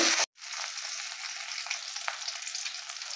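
Fish frying on the second side in hot oil in a pan, an even close sizzle and hiss that follows a brief clatter and runs steadily to the end.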